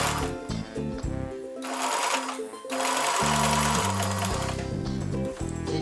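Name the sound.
sewing machine stitching elastic picot edge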